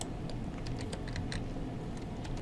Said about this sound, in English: You can enter a topic into the box provided by typing it.